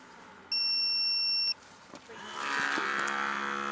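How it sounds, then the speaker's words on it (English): A timer runs in the background beside a campervan espresso machine test and gives one steady electronic beep lasting about a second, followed by quieter hissing and rustling. "So you probably heard that beep."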